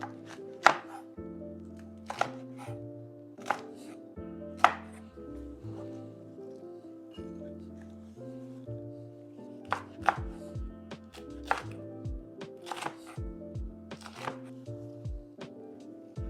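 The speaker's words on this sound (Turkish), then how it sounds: "Şöyle birazını ayırıp şöyle doğramak istiyorum" Steady knife chopping of peppers on a cutting board, sharp evenly spaced thuds over a soft musical background, close and fairly quiet.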